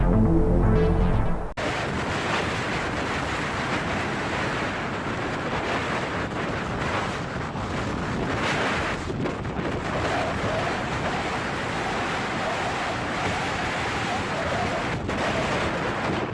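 A large Dutch-flagged fishing vessel pushes through big storm waves, heard as a steady, loud roar of wind and surging sea that continues unbroken after a brief muffled opening.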